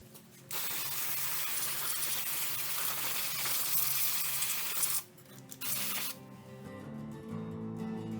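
Electronics cleaner sprays onto wiring in a long close hiss lasting several seconds, followed by a shorter burst and then faint mechanical clicks and rattling.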